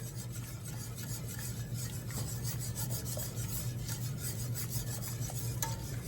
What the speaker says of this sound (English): So we're just going to keep stirring while that's melting.